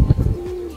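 A racing pigeon arriving at the loft during a fun race, giving a short, close, low coo with some fluttering before a faint steady tone lingers.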